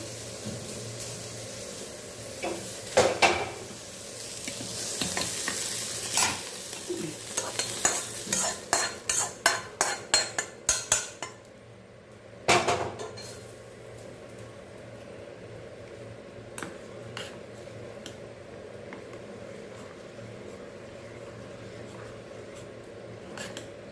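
A spoon stirs paniyaram batter of Kerala matta rice in a bowl, scraping and clinking in a quick, uneven burst for several seconds, then a faint background hiss carries on with only a few soft taps.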